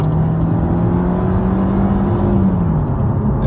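A Mercedes C180 W204 fitted with a RaceChip pulls away from a roundabout, its engine droning loud and steady inside the cabin with a rising tone as it accelerates over road rumble.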